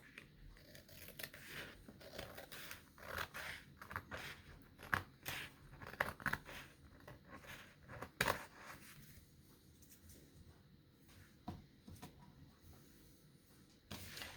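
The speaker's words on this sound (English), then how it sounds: "So let me trim this up. Where are my scissors?" Scissors trimming paper for a craft tag base, quiet crisp snips and rustles in an irregular series close by, with gaps between cuts.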